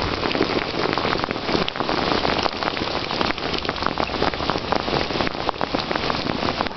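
Steady, dense rain pours outdoors while a puppy plays in it, a loud continuous patter on wet surfaces with no talking.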